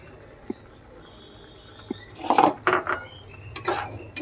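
A spoon scrapes and clatters in a kadai as mutton is stirred with ground spices. After a few isolated taps come bursts of metallic scraping, fairly close and with no one speaking.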